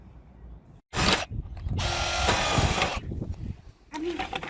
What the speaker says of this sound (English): So there we have all of our holes drilled and we're ready for the next step.